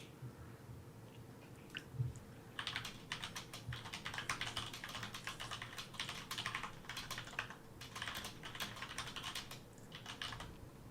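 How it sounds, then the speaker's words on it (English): Rapid clicky keystrokes on a Corsair K70 mechanical keyboard, steady bursts of typing over a low background hum, close and moderately loud, with no talking. "Clicky keyboard."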